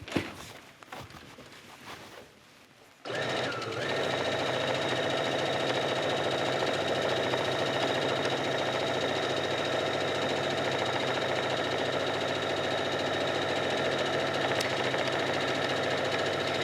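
A sewing machine runs at a steady, fast rhythm as it stitches a single row along the hem of a knit tee shirt. It starts after a few seconds of quiet handling and continues close and even.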